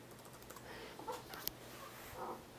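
Someone types an email and password on a computer keyboard, a faint scatter of light key clicks at an uneven pace in a quiet room.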